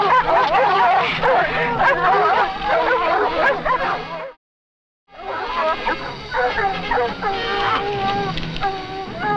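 A pack of trained hunting dogs bays and yelps in a frantic, continuous chorus while confronting a wild jaguar, breaking off briefly to silence before resuming just as loud.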